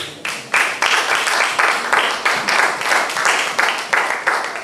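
Church congregation applauding after a call to acclaim the word of God, a dense steady clapping that swells in rhythmic surges, loud and close, with no voices over it.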